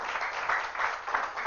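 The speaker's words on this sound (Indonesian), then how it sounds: "Kita beri tepuk tangan untuk Tuhan kita." A church congregation claps together, a dense steady patter of many hands held at a moderate level with gentle swells throughout.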